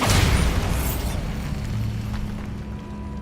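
Bombarda blasting spell from Hogwarts Legacy going off in a single loud booming burst at the start, its rumble decaying into a lingering low tone and debris rattle.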